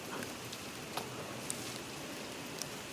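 Steady rain pours down outdoors during a front strut replacement on a 2000 Honda Accord, a constant hiss with a few sharper drips or taps standing out, no voices.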